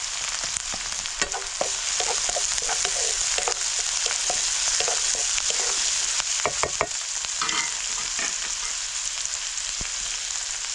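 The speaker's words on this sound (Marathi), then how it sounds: "तेल आपलं चांगलं गरम झालं त्याच्यामुळं कांदा लगेच परतला" Onion frying in well-heated oil in a home kitchen, a continuous bright sizzle with intermittent scraping clicks from stirring, steady and close throughout with no talk.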